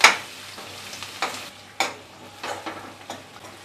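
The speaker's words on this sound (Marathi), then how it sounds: "आलं आणि लसूण परतून झाल्याच्या नंतर यामध्ये आपण टॅमॅटो घालूया आणि थोडीशी कोथिंबीर. हे सुद्धा आपल्याला परतून घ्यायचं आहे." Tomatoes and chopped coriander sautéing with ginger and garlic in a pan, heard as a soft sizzle broken by several scraping stirs of a spatula at an uneven rhythm, close by and fairly quiet, with no talking.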